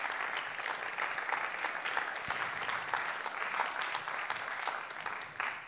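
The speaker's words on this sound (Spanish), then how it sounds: "un aplauso para ellos y para ellas" An audience applauds sponsors at the Premios Maketón Maeloc 2020 awards ceremony, with dense, steady clapping that carries on evenly for the whole stretch and trails off slightly at the end.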